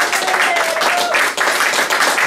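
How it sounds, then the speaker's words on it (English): Dense, steady applause fills the whole stretch, loud and close, with a few cheers mixed in. "A big round of applause to my guest, Mike Schmidt, everybody."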